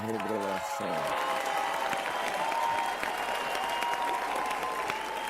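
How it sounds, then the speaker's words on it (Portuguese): A church congregation in Cape Town in 2017 breaks into sustained applause right after a brief spoken line, with loud, steady clapping filling the hall to the end. "Ou vocês estão aplaudindo a minha revelação?"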